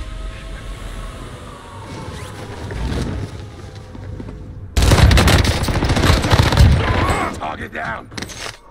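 Rapid automatic gunfire from the Warzone video game, loud and close, with bursts building sharply partway through over players talking.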